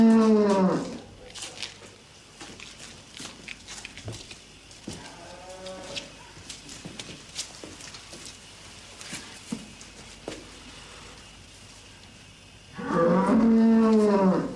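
A big farm cow lows loudly: one long, drawn-out moo at the start and another strong one near the end, with quiet shuffling and patter in between.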